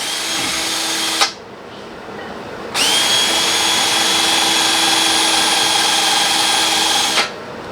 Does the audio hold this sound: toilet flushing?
no